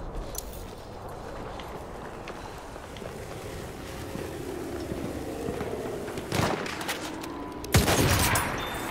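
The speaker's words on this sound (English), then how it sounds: "Someone's shooting my ass from over there." Battlefield 1 multiplayer gunfire rattles over a dense battlefield din, with scattered distant shots through the ambience and two louder, sharper bursts near the end, no voices.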